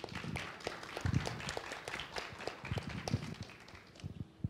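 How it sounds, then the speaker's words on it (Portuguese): An audience claps after a speaker at a healthcare specialists' event for a product launch, with dense, irregular claps that are sustained and fairly distant, without talk over them. "Vamos aplaudi-la."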